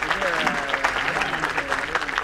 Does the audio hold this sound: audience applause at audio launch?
yes